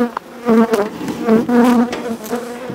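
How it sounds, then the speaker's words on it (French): Honeybees drone loudly from an opened, well-filled hive colony, a close, dense buzz with wavering pitch as individual bees pass near, and no speech. "Je me permets d'ouvrir, de voir si tout est en place. Ouais, colonie bien pleine."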